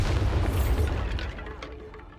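A Bombarda spell blast in the Hogwarts Legacy video game, one loud deep boom that rolls off and fades over about two seconds.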